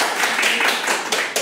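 A small audience claps briefly at a talk, a short burst of close, dense applause that fades within a second or two.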